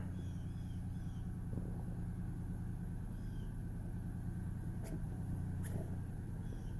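A 2007 Ford F-150 engine runs steadily just after start-up, a continuous low rumble that stays even throughout with a couple of faint sharp clicks and no talking.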